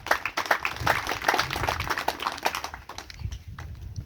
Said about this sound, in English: Give a round of applause to the grade 8s again